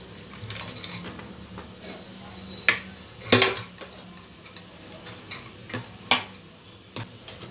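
Lentils and jaggery stirred in a pan for holige filling, with repeated scraping and clacking spoon strikes in an irregular rhythm over a faint sizzle, close up.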